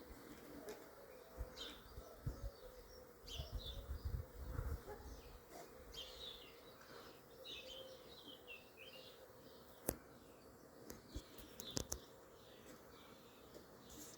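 A swarm of honeybees drones steadily in the open air while it is being captured in Soignolles-en-Brie, a dense, moderately quiet buzz with occasional nearby bees passing, faint birdsong and a few soft clicks in the background.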